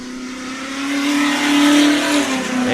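An Ultra4 off-road race car pulls away at a Montana off-road race, its engine revving loud and close in a steady climbing roar that holds for a few seconds.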